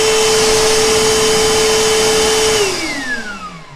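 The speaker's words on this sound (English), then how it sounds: "insert it here, lock it, and now you have a blower." A Milwaukee M18 cordless wet/dry shop vac blows air with a loud, steady whirring rush and a pure motor whine that drops in pitch as it starts to spin down near the end.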